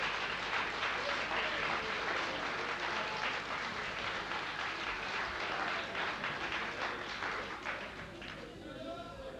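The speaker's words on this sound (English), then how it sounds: "Clearly, they are flag-waving and cheering, as you would expect." Yes campaign supporters at the Wales devolution referendum count cheer and applaud in a dense, steady roar of clapping and shouting that holds throughout and thins slightly near the end.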